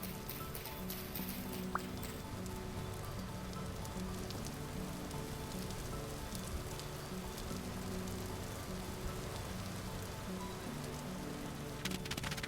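Steady rain falls in the Vintage Story 1.20 video game, a dense, even patter that holds at the same level throughout with no talking.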